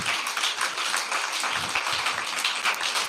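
A church congregation claps together during worship, a dense, continuous patter of many hands with fairly even rhythm, loud and close, with no talking over it.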